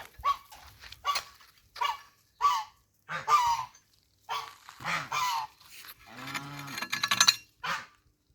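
A white goose honks again and again, loud and near, in short harsh blasts that grow into a longer rattling burst near the end, with no talking.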